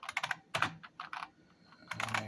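Computer keyboard typing while editing a DOS tss.bat startup file for an Ensoniq Soundscape card: close, crisp clusters of keystrokes in quick bursts with a short pause midway, no voices.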